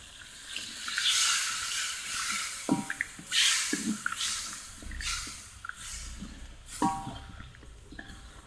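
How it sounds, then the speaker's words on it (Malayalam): Water pours into a pan while making a soya-chunk Manchurian, heard as several separate splashing pours and gurgles close by, with short pauses and small drips between them. "ഇനി നമുക്കിതിൽ ചെയ്യാനുള്ളത് കുറച്ച് വെള്ളം ഒഴിച്ചു കൊടുക്കുക"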